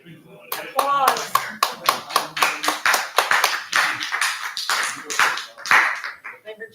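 Scattered applause from people at a Greenwood city council meeting, a run of distinct claps with voices and other room sounds mixed in, fading out near the end.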